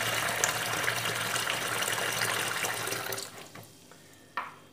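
Water poured and gushing over raw chicken pieces during cleaning, a steady splashing stream that stops partway, followed by a few faint drips and one short splash.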